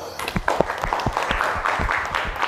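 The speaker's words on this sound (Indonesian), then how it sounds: "beri tepuk tangan dulu" Students in a sociology classroom clap together briefly, a loose cluster of uneven hand claps close by, fairly loud against a noisy room.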